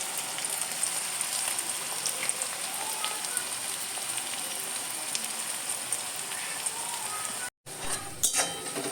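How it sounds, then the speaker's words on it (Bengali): Chopped onions sizzle in hot oil in a pan before jute leaves are added, a steady, broad hiss like rain that holds evenly, then briefly cuts out and returns with a few clattering stirs near the end. "পেঁয়াজটা দিয়ে একটু ভালো করে নেড়ে নেবো।"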